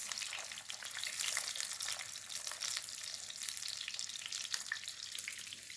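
A burger patty frying in hot oil in a pan on a home stove: a steady, close sizzle and crackle with a constant hiss throughout and no talk.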